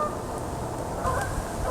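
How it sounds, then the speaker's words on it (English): Flock of geese honking outdoors near a beaver trapping spot, calls faint and somewhat distant over low background rumble, a few overlapping honks without talk. "Yeah, bunch of geese."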